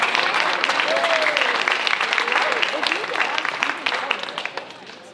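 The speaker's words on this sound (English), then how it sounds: "Let's give Emily one more round of applause." An audience at a National Signing Day ceremony applauds for Emily with sustained, dense clapping mixed with a few voices, gradually thinning and fading toward the end.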